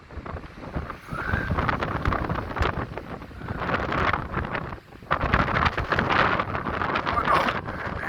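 Cold, strong wind gusts across the Blackpool promenade beside high waves, buffeting the microphone in a rough, fluctuating roar while someone talks over it.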